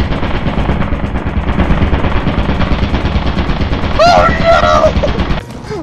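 Rapid automatic turret fire in the video game Lethal Company rattles loud and continuous for several seconds, with a brief electronic chirp before it cuts off.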